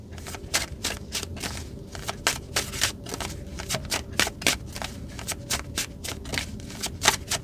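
A deck of oracle cards is riffled and shuffled close up, a rapid string of crisp flicks and snaps in uneven bursts with no talk over it.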